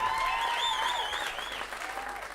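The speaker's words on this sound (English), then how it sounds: "Round of applause for Eric before us." A theatre audience claps and cheers at a swing band performance, a dense, loud burst of applause that slowly tapers off over a couple of seconds.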